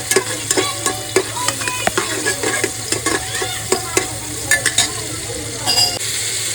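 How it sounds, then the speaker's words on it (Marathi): Onion frying in hot oil in a pan for goat trotter soup, with a steady sizzle under repeated close scraping and clinking strokes of a spoon stirring, fairly loud and irregular. "आता मस्तपैकी कांदा परतून घेऊ आपण."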